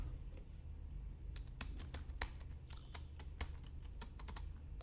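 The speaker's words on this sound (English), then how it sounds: "if I type something, I can do that with this keyboard and this tablet here" Typing on a keyboard connected to an e-ink tablet, with a run of close, crisp key clicks in irregular bursts over a low steady background hum.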